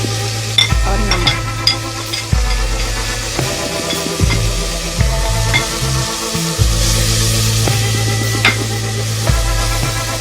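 Chickpeas with dried coriander, turmeric, red chili, chole masala and salt are fried and stirred in a pan, giving a low sizzle under repeated spoon scrapes and knocks with a steady rhythm, close up, no talk.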